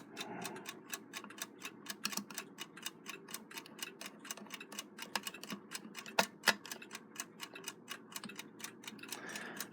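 A freshly wound and rebuilt Westclox Big Ben Loud Alarm style 5A clock ticks close and loud, a fast, even stream of sharp clicks that runs throughout.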